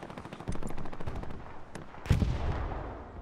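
Gunfire in the World War II shooter Hell Let Loose, with a burst of rapid automatic shots early on and a louder sharp blast a little later, followed by a fading, echoing tail.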